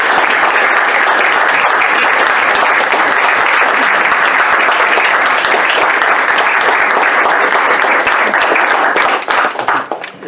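At a board meeting, a room claps loudly and continuously for about ten seconds before the applause begins to thin and trail off at the end.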